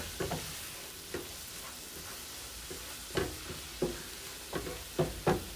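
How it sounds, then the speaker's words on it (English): Collard greens frying in a pan give a soft steady sizzle, with several scattered clinks and scrapes of a spoon stirring them, close by and fairly quiet. "And so I'm gonna stir this around."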